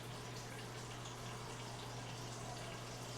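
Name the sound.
water running from a tap to measure a cup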